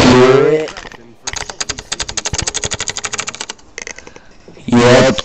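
Rapid, clattering keystrokes on a brand new computer keyboard ring out close and loud for a few seconds, framed by a voice speaking before and after.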